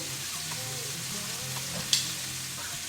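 A chuck roast sears in a hot pan with a constant crackling sizzle, plus a few soft scrapes and one sharp clack as the meat is turned, heard up close without speech.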